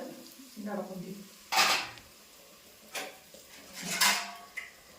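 Lid set onto a cooking pot of pineapple pulissery, a few sharp metallic clanks and scrapes spaced apart, with a low voice murmuring early on.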